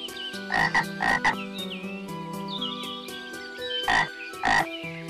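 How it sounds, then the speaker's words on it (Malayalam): A frog croaks in short bursts, two close pairs early and two more later, loud and near, with other animal calls and faint background tones in between. "ഒരു ഉണ്ടക്കണ്ണൻ തവള"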